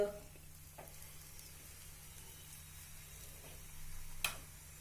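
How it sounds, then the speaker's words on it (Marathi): A thick cauliflower paratha roasts in oil on a tawa, sizzling softly and steadily with a few small ticks and one sharp click near the end, alone and without talk. "तेल सोडूया पहिल्यांदा थोडस तव्यावर आणि पराठा आपण भाजून घेऊया मस्त"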